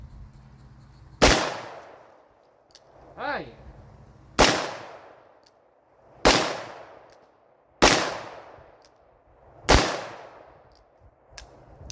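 Five very loud, booming .500 Smith & Wesson Magnum revolver shots ring out at irregular intervals of a couple of seconds, each with a long echoing tail; someone speaks briefly between shots.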